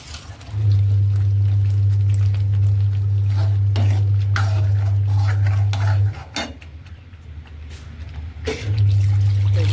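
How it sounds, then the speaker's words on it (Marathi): Repeated scraping and clinking of a spoon stirring cooked fresh green chickpeas into fried masala in a pot, heard over a loud steady low hum that cuts out briefly near the end. "त्यात मी आपले हे शिजवलेले हरभरे टाकणार आहे"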